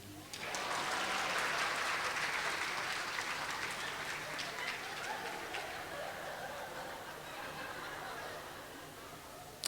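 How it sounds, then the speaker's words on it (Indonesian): A congregation applauds during a church sermon, a broad burst of clapping that swells quickly, then fades slowly and steadily, heard from a moderate distance. "Ini waktunya tepuk tangan."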